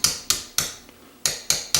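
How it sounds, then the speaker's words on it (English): A 1/8 inch punch gently tapped with a hammer to drive out a pin while installing an accurizing kit in a Ruger Mark IV pistol: six sharp, close metallic taps, a pause mid-sequence, then three more. "Using the 1/8 inch punch, we're just going to gently tap that out."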